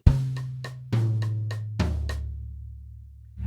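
Drum kit bar of tom eighth notes in a lesson groove, a bass drum kick landing with the high tom on the first note; evenly spaced resonant hits with ringing low tails, played alone at moderate volume.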